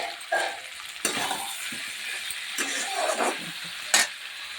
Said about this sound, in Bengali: তরকারিটা কষানো হয়ে গেছে।